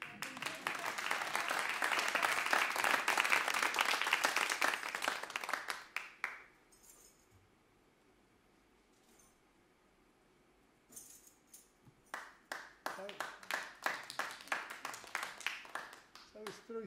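Audience at a jazz concert applauds loudly for about six seconds, falls quiet, then breaks into a second burst of clapping with scattered individual claps.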